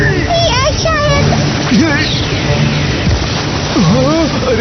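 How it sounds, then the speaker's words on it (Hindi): A cartoon water effect of splashing and gushing as water floods into a sinking ship, continuous and loud under animated children's voices talking. "अरे इतना सारा पानी। इस तरह तो ये शिप डूब जाएगी।"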